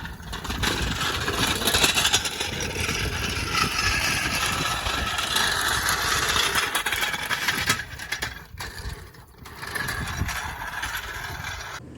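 A 1967 Pontiac Firebird muscle car engine, newly revived during a budget restoration, runs at a steady, rough idle close by, with continuous mechanical rumble and a brief dip near the end.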